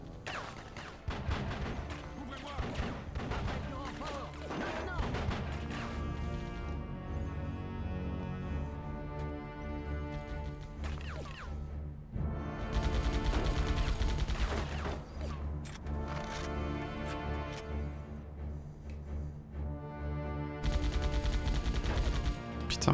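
Gunfire in the video game Die Hard: Vendetta, with repeated shots and bursts that rise and fall over a loud, tonal game soundtrack.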